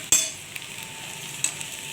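Potato and pointed gourd peels frying in a pan over reduced heat, a steady soft sizzle close by, broken by a couple of sharp clinks of a utensil against the pan as they are stirred.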